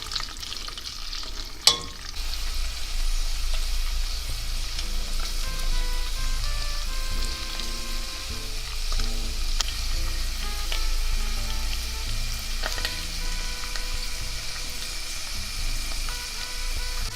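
Onions, peppers and garlic sizzle and crackle in hot oil and butter, a steady close frying hiss with occasional stirring clatter and no talking.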